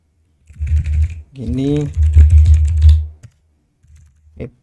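Typing on a computer keyboard while building a React form, with clattering keystrokes running under someone talking through most of the clip.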